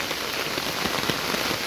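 Steady rain falls on a railway line between Padukka and Kosgama, a dense, even hiss of drops pattering on surfaces close by, with scattered sharper taps and no voices.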